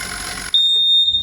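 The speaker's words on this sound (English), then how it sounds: "and come up with an alarm" Marksman smart pump tank sensor alarm gives a steady, high electronic beeping tone that starts abruptly and holds loud and continuous after a burst of broadband noise.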